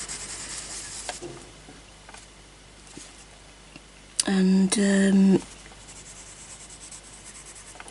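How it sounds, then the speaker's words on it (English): A Bambino crayon rubs softly across paper during colouring, giving a faint scratchy scribble that fades in and out, briefly covered by a loud tonal interruption midway. "I'm just putting the crayon onto the paper."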